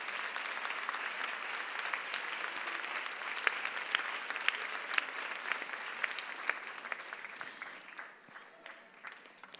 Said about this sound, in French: Je crois que nous pouvons les applaudir.